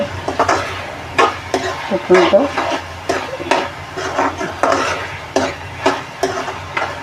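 Onions being fried for keema are stirred repeatedly in a pan, giving loud, close scraping strokes in an irregular rhythm over a soft sizzle, with a little background voice.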